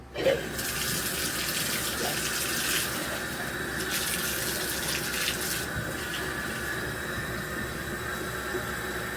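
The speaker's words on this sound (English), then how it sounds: "put it in a pillowcase and then run water into it until it's clear and just keeps coming out" Tap water running into a pillowcase of sand in a bathtub, a steady, loud, continuous rush that does not let up, with no voices.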